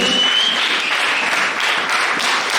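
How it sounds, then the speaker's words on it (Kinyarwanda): A church congregation claps in a dense, continuous burst of applause that stays loud and steady for a couple of seconds. "Amashyi menshi ku ngakora."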